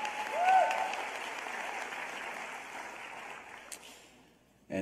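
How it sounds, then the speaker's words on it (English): Audience applause at a school district Teacher of the Year celebration: a sustained round of clapping swells early, then slowly fades over several seconds before a brief louder burst at the end. "All right, one more big round of applause for Ms. Yetta Smith."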